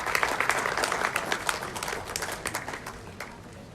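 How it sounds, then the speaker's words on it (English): A crowd at a Ghanaian movie premiere breaks into loud, sustained applause, a dense stream of many hands clapping that eases off slightly toward the end. "with another round of applause."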